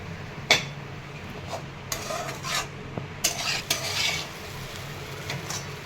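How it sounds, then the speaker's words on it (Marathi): Stale bhakri pieces being stir-fried in a pan with salt and coriander, a spatula scraping and clinking against the metal in several brief strokes over a low, steady sizzle. "तर आता छान परतून घ्यायचे तुकडे"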